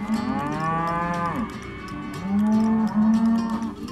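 Cattle moo twice in long, loud, drawn-out calls, the second a little fuller and steadier, close by with no talking.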